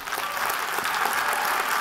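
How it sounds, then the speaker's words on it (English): Audience applause at a tech conference session, a brief, dense burst of many hands clapping at a steady, fairly loud level without speech. "can you all please give a round of applause to Alan?"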